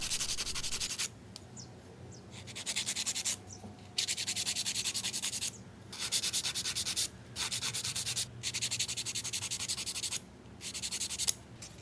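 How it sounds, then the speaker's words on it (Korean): A nail file rasps along the sides of acrylic nail extensions in repeated bursts of dry scraping, each stroke run lasting a second or two, separated by short pauses, close and fairly quiet. "그리고 왼쪽 오른쪽 사이드를 일자로 파일링 해줄게요."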